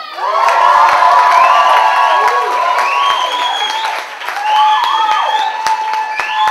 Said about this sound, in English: give a huge, huge whoop and cheer for Mr. Dave Winter